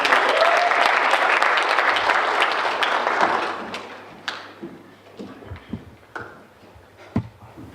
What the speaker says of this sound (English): Give it up, give a round of applause.